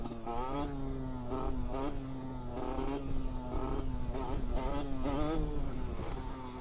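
A 50cc-125cc motorcycle revs hard during a sustained wheelie, its engine whining in repeated rising and falling bursts of throttle. The sound stays close and steady throughout, with no speech.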